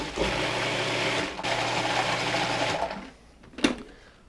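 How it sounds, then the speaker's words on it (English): Food processor whirring steadily while pureeing cherries with Kirsch, running in two close, loud bursts separated by a brief pause, then stopping, followed by a single clack. "pulse and puree"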